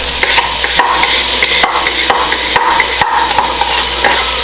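Lobster shells and their collected juice get stirred in a pot, with a spoon scraping and knocking the metal in irregular clattering strokes over a soft bubbling sizzle, close and loud, without talk.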